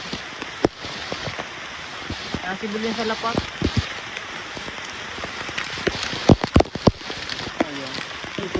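Steady rain patters on surfaces outdoors in a storm during mushroom foraging near San Pablo City, a dense continuous hiss with louder drips, while people talk over it.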